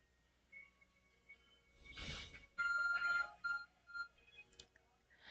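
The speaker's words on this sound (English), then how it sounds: "Your arc phone is beeping." A short electronic beeping tone from the Arc Phone in Pokemon Legends: Arceus pulses a few times over a soft synthetic background, with a brief whoosh just before it.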